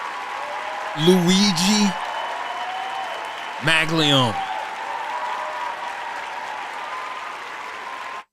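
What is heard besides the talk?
audience applause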